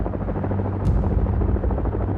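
Stealth Black Hawk helicopters lifting off at night for a raid on a compound in Abbottabad, Pakistan, give a steady, loud rotor and engine roar with a low thumping hum throughout and a brief hiss partway through.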